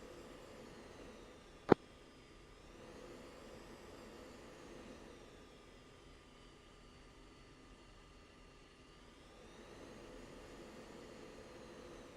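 Steady, fairly quiet roar of F-16 jet engines on a runway in the Falcon BMS flight simulator, a low even drone throughout with one sharp click early on.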